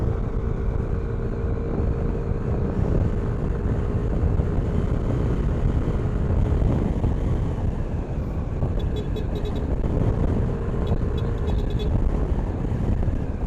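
A Yamaha NMAX V3 scooter rides over bumpy road with continuous close engine drone and heavy wind and road rumble. Small rattles and clicks come through toward the end.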